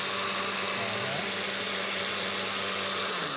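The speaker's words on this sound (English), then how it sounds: "getting them in the blender, pressing the button" A kitchen blender runs steadily while blending recovery meal ingredients, a loud continuous motor whir throughout, with a voice talking over it.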